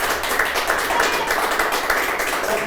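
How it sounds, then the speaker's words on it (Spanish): A small studio audience applauding the guest Pancho Lombardi on a talk show, a close, fairly loud patter of individual claps throughout. "le quiero dar un fuerte aplauso al gran Pancho Lombardi"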